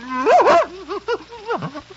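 An Airedale terrier gives a run of whiny, rising and falling vocalizations close by, a longer yowl followed by several shorter whimpering yips in quiet surroundings.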